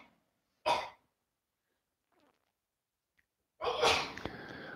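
Two sharp sneezes burst out close to the microphone, the second longer and followed by a breathy tail, with near silence between them in a quiet yoga class.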